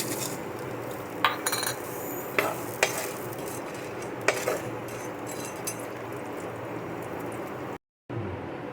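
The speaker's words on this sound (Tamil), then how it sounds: "எண்ணெய் சூடானதும் இதை போட்டு லைட்டாக வதக்கிக்கலாம் ஃப்ரை பண்ணி எடுத்து வச்சுக்கணும்" Dried manathakkali vathal berries fry in hot oil, making a steady sizzle with a few clinks and scrapes of a spoon against the pan, up close. Near the end the sound briefly cuts to silence.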